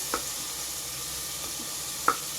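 Onions frying in a pan for mushroom pulao, a faint, steady sizzle with a couple of sharp spoon clicks against the pan.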